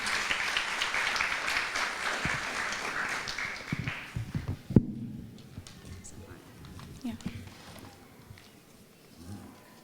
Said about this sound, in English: so please can we have a huge round of applause for Ashmita.